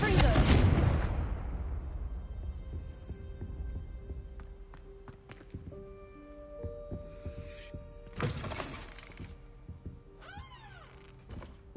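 A fire spell bursts with a heavy booming blast in the video game Hogwarts Legacy, loud at first and decaying over a couple of seconds, followed by scattered magical chimes, tones and thuds.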